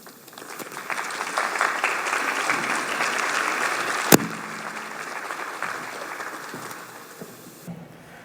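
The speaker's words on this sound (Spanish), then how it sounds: "Recibámoslo con un fuerte aplauso" An audience applauds to welcome a speaker at a keynote lecture, clapping rising quickly to a full, steady roar and slowly tapering off near the end, with one sharp knock partway through.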